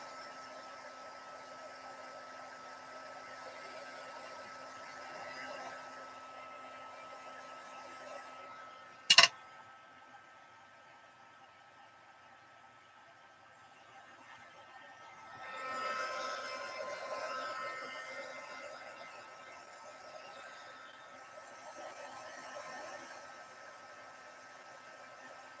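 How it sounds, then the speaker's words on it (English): Heat gun blowing steadily as silver embossing powder melts on a Christmas stocking-stuffer craft, a constant airy hiss at moderate level with one sharp click and a brief swell later; faint talk underneath. "that's what I'm using, is silver embossing powder and a heat gun"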